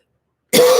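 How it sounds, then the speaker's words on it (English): After a moment of silence, a single short, close cough bursts out abruptly. "See, I'm coughing a little."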